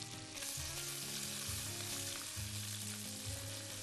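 Sliced half-moon onions fry in butter with mustard, a loud, dense, continuous sizzle heard up close, with a low hum beneath and no talking.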